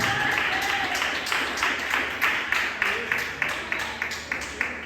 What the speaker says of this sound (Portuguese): glorificar as melhores salvas de palmas para Jesus, porque Ele merece